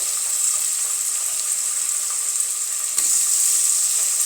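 Chopped tomato hits a hot frying pan with turmeric for a rustic-style mutton fry, giving a steady, close sizzle that holds throughout, with a brief stirring scrape near the end.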